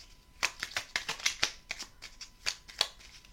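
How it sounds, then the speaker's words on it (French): Oracle cards are shuffled by hand in a burst of quick, crisp riffling flicks, close and clear with no talking. "on va prendre une petite carte des vœux de nos anges"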